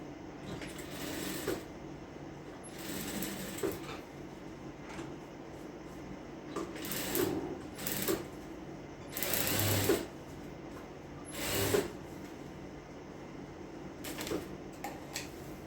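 A sewing machine stitches a supermarket bag, running in several short bursts with pauses and small clicks between them as the fabric is handled. It sounds close and moderately loud, and nobody speaks.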